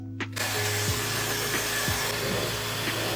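A Tideway blow dryer dries hair. After a brief quiet moment it switches on to a loud, steady whoosh of airflow with a motor hum underneath, close and constant to the end.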